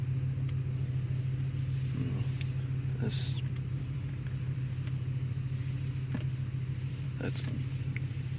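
A Ford 4.6 V8 idles steadily after start-up, a low, even engine rumble held throughout, close by, with a brief spoken word.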